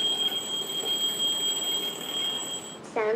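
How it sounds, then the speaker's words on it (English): A memory-stimulating robot plays an alarm clock sound as a steady, high, thin electronic beeping tone held at a constant pitch, with a brief clatter near the end. "It is an alarm clock."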